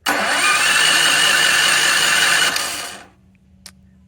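A Firman 3650 generator engine, started manually, runs at a loud steady mid-pitched roar for about three seconds, then winds down and cuts off, leaving a faint low hum and one small click.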